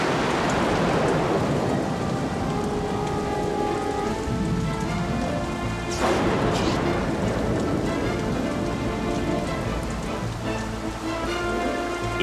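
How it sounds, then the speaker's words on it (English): Heavy rain pours down steadily and loudly, a dense continuous roar with a low rumble underneath, briefly swelling around the middle. "the heavens rained down as they had never rained before"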